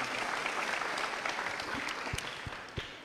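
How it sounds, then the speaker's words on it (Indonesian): An audience at a university forum with Anies applauds in a steady, moderately loud patter, with a few sharper individual claps standing out near the end. "Tepuk tangan untuk kita semua."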